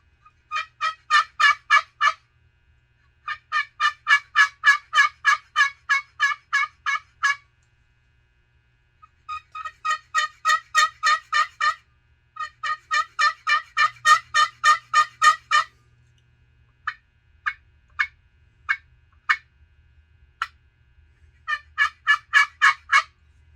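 A handcrafted Buffalo Hunter wooden turkey box call imitates an old hen, with rhythmic series of raspy, deep yelps in several bursts of about ten notes, then a few sparse single clucks, played close and alone.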